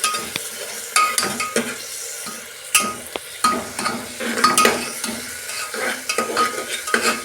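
A spoonful each of garlic and ginger frying in a pan for a chicken and vegetable dish: a steady sizzle with repeated scraping stirs of a spoon against the pan, close and clear, with no voices.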